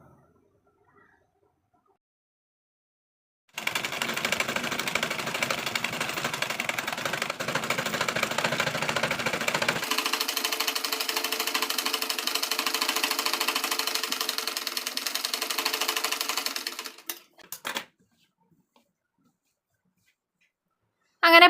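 Sewing machine double-stitching pleats onto the yoke of a peplum dress, a steady mechanical whirring run of about thirteen seconds that shifts pitch midway, bracketed by silence and a few short bursts near the end.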